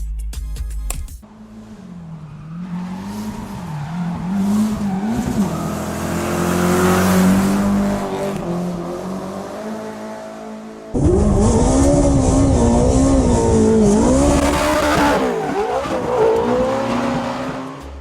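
A drifting car's engine revs and roars in sustained bursts, rising and falling in pitch, with a louder, harsher stretch near the end and no talking.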